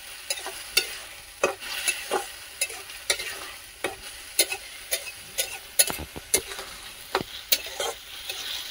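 Masala being stirred into mushroom curry frying in a pan, with a rhythmic series of sharp scraping strokes over a steady soft sizzle, close and fairly quiet, no talking.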